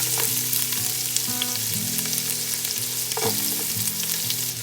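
Onion sizzles and fries in hot oil in a pan for a vegetarian hot and sour mixed vegetable soup, a steady loud crackle with occasional stirring scrapes and no talk.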